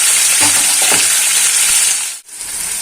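Steady, loud sizzling of marinated chicken frying in hot oil, with a few faint clinks, then a brief dip near the end before the sizzle resumes.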